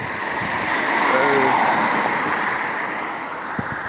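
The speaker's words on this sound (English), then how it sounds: "There's a big truck up there" A big truck passes on a road, making a steady, broad traffic rumble that swells and fades across the clip, loud and close, with wind noise over it.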